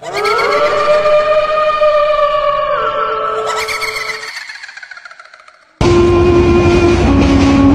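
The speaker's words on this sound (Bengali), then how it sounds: "আজকে কেন ট্রেন গেল?" A passing train sounds a loud, sustained horn whose pitch sags as it moves away and fades, then gives way abruptly to a different loud, noisy blast.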